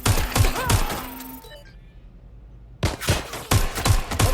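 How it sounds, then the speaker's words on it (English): Gunfire from the video game Watch Dogs Legion: loud bursts of rapid shots, then a short quieter gap before another volley of repeated, evenly spaced shots returns, all close and without talk. "I'm getting shot at here. Taking fire."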